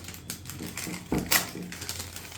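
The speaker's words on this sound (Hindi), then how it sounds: "जैसे ही हम क्यूटी पे क्लिक करेंगे ये हमारी क्यूटी प्रिंटर से प्रिंट होकर आ चुकी है।" A restaurant POS kitchen order ticket printer prints a ticket with rapid mechanical clatter and a couple of sharper clicks over a busy background hum.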